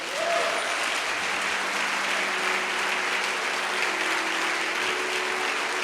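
Steady, dense applause from a church congregation during a service, a full crowd clapping continuously without pause from start to finish.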